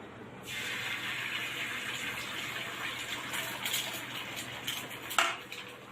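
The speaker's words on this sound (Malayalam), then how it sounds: "ഞാൻ ഒഴിക്കുകയാണ്" Beaten egg mixture for an omelette is poured into a pan, making a soft, steady rushing hiss that fades out, with a light clink near the end.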